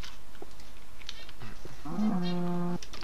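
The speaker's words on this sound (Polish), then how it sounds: "zabijemy trochę krów" Minecraft cows lowing in a long, steady moo that stands out clearly near the end, with faint game ambience before it and no talk.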